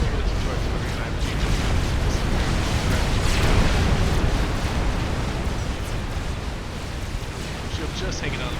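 Artillery barrages pound a shielded position in a Forged Alliance Forever 4v4 battle, a dense, loud, continuous roar of overlapping explosions and rumbling booms with no pauses.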